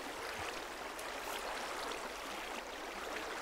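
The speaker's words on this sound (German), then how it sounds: "So ein richtig schöner Wasserfall ist das." A Minecraft waterfall gives off a steady, soft rushing hiss of falling water, faint and continuous with no talking.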